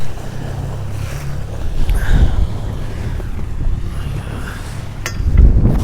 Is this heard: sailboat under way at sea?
yes